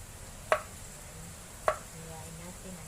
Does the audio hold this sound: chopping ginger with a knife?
yes